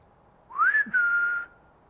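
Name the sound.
person whistling an imitation of an owl call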